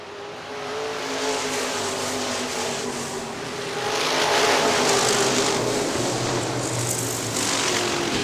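A pack of IMCA modified race cars circles Hartford Speedway in Hartford, Michigan, a continuous engine drone heard from a distance that swells as the cars come nearer.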